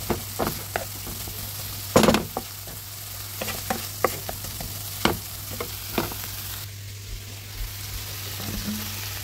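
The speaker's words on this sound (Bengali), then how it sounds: "তো এখন আমি ভালো করে কষিয়ে নিচ্ছি।" Raw onions and spices with salt sautéing in a pan for beef brain bhuna, a low sizzle under frequent sharp scraping and clinking of a spoon against the pan, irregular and close.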